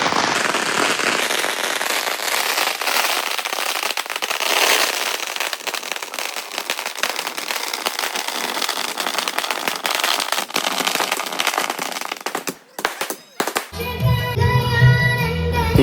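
Dense, continuous crackling bursts of firecrackers at the Kuttikulangara temple festival fill the air, loud and unbroken for about thirteen seconds before breaking off into a few scattered pops and a different, rhythmic sound.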